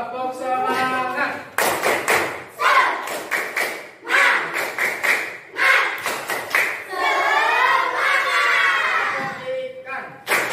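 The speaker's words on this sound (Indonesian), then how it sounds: "Tepuk semangat." Children chant the Indonesian 'tepuk semangat' clapping chant together in a lively rhythmic pattern, punctuated by sharp group claps in time with the chant.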